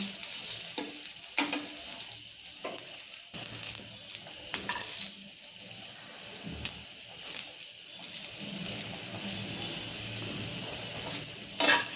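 Coconut and ingredients dry-roasting in a pan for misal usal, with a steady scrape of stirring and light crackling throughout, close and fairly loud, with no talking.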